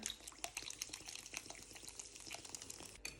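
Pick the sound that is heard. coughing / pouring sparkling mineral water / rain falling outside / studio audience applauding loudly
pouring sparkling mineral water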